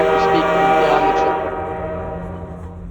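A train in a Garry's Mod horror map sounds a long tonal horn, loud and close, that fades into a steady rumbling hum, with voices talking underneath.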